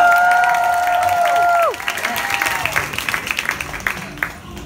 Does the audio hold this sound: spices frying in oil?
no